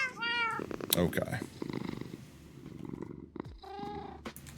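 Freshly fed cats meow with harmonic, wavering cries at the start and end, while purring and rustling fill the middle, close by, with a person briefly speaking.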